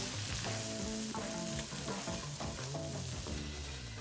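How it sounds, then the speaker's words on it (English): Beef sears in a hot pan with a steady broadband sizzle, heard close up beneath tonal, music-like sounds that run through the whole stretch. "Now you want to make sure you check your meat often so you got a good sear first of all."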